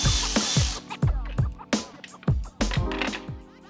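A power tool fitted with a 10mm socket spins out a front grille bracket bolt on a Mercedes-Benz W212 E63 AMG, giving short whirring bursts with sharp rattling starts, close and repeated several times.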